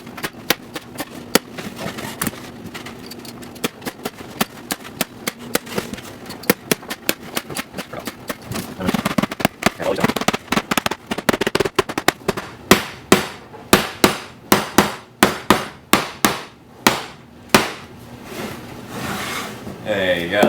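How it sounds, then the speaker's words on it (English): A hand staple gun fastens material down onto a homemade mouse cage, firing a series of sharp, close staple snaps that grow more frequent and regular toward the end, with some softer handling noise between shots. "Now I'm going to just staple it down."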